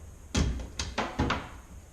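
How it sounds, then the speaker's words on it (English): Key being turned to lock the bed storage door on a Toyota Tacoma, giving a few close, sharp metallic clunks and taps spaced irregularly over two seconds. "Rotating the keys and securing the door"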